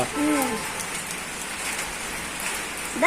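Summer rain falls onto stagnant street water in Madurai, a dense, steady hiss of drops pattering on the surface, close and continuous, with brief voices or sounds at the start and end.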